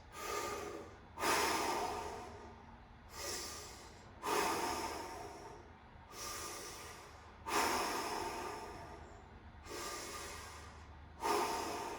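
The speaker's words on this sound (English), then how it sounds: "5 deep breaths." Slow, deep breaths during a leg-crossing stretch after a kettlebell workout, about seven long airy inhales and exhales, each swelling suddenly and then fading in a steady rhythm, close and unaccompanied by speech.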